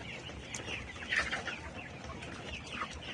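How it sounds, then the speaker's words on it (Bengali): Kazi high-sex brown laying hens in a poultry farm housing about 3,500 birds, clucking and calling in a busy overlapping chorus with a few louder squawks close by. "এই মুরগির জাত হচ্ছে কাজির হাইসেক্স ব্রাউন।"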